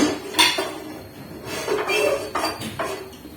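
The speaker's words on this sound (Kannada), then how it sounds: "ಸೊ ಈಗ ದೋಸೆ ಹಾಕೋಣ ಅಂತ ದೋಸೆ ತವ ಇಟ್ಟೇನೆ" A metal dosa tava is set down on a kitchen stove with several clanking knocks and clinks, loud and close, spread over a few seconds with no talking.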